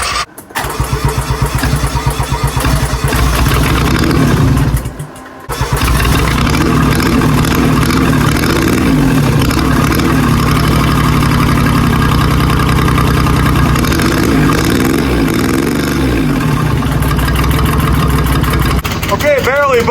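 A diesel-swapped golf cart engine cranks after the glow plugs are heated, stalls briefly, then catches and runs in a rough, steady clattering idle, close and loud throughout.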